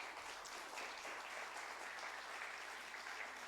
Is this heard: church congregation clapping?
yes